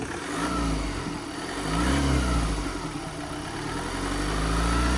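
A 2018 Ford Transit van engine is revved once: a low idle swells into a single rise near the middle, then settles back to a steady run, heard close with no talking.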